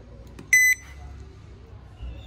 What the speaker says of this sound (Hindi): जैसे ही मैं इस बटन को प्रेस करूँगा यहाँ पर आपका अलार्म सिस्टम ऑन हो जाएगा